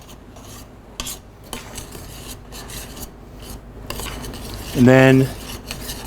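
A utensil stirs flour into oil and butter in a pot to make a roux, making rhythmic scraping and rasping strokes up close, then a brief tonal squeak near the end, with a short spoken phrase.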